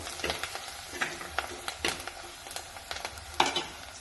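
Kashmiri chili powder and turmeric stirred in a frying pan, a soft sizzle under rhythmic scraping strokes of a spoon, close and fairly quiet.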